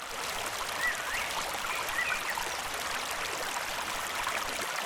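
River water rushes past in a steady, broad hiss of flowing current, continuous and fairly close, with faint birdlike chirps in the background.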